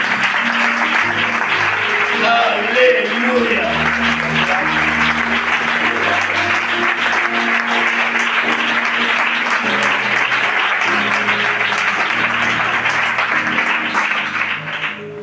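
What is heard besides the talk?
congregation applauding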